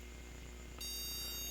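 A buzzer on a Colorful A320M D motherboard, under repair for a short and no power, starts beeping partway through as one continuous, high, steady electronic tone over a low background hum.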